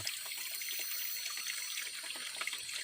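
Clear forest spring water trickles steadily into a bucket outdoors, a soft continuous splashing and dribbling with faint ambient background, fairly quiet and close.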